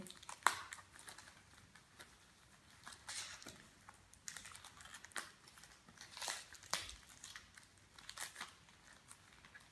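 Plastic packaging on a wildlife magazine being unwrapped, close faint crinkles and sharp crackles coming in irregular bursts with quiet gaps between.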